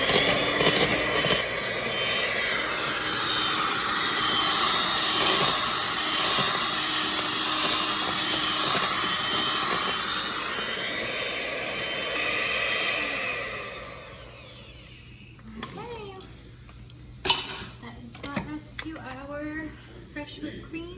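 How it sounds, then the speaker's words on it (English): Whisk beating whipped cream with vanilla to hard peaks: a steady, dense, fairly loud whirring hiss for about thirteen seconds that then cuts off, followed by scattered clinks and knocks. "we're gonna finish whisking this up until it's nice and hard peaks"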